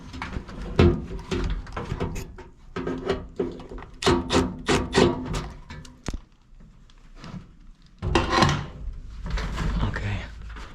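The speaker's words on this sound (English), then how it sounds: "Let's take off this cover fully." Clattering knocks and scraping of a dusty HVAC fan coil unit's cover panel being worked loose, with several sharp taps and rattles, close up and loud.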